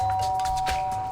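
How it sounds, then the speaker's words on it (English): A doorbell in the Danganronpa video game sounds once as a bright, steady electronic chime, clear and alone, over a faint background hum. "I pressed the doorbell."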